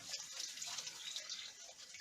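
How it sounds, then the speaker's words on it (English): Tap water runs steadily over hands being washed at a kitchen sink, a soft, close hiss with light splashing throughout. "Let me just wash my hands."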